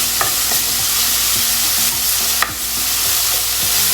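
Masala frying in a pan over medium-low flame while a spoon stirs and scrapes it, a continuous loud sizzle with periodic scraping strokes and a few clinks.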